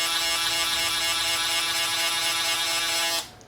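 Electric shaver buzzing steadily at close range during a haircut, a bright continuous hum that holds for about three seconds and then cuts off abruptly.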